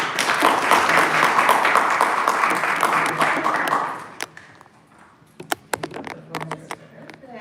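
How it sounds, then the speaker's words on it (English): Audience applause rings out for a speaker at a public policy briefing on education, a dense round of clapping that fades after about four seconds into scattered single claps and quiet shuffling. "So please join me in a round of applause for Ms. Madelyn Gonzalez."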